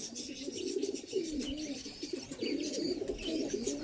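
A group of domestic Ice-breed fancy pigeons coos steadily at close range, overlapping rolling murmurs running without pause at low volume, with light clicks and bumps mixed in.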